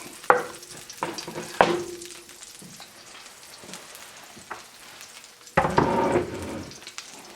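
Red eye gravy sizzling in ham grease in a Teflon pan, with a soft steady frying hiss and several sharp louder bursts of spatter, the biggest near the end as liquid hits the hot pan.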